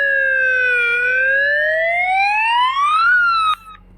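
A police siren in the game Roblox Brookhaven wails loudly in one long rising sweep with bright harmonics, then cuts off abruptly near the end over a faint steady background hum.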